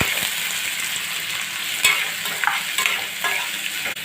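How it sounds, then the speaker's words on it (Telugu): Onion pieces and green chillies frying in hot oil for a raw banana and prawn curry, a steady dense sizzle throughout with a few spoon stirs and scrapes, close and fairly loud, no talking. "ఉల్లిపాయ ముక్కలు పచ్చిమిర్చి వేస్తున్నానండి."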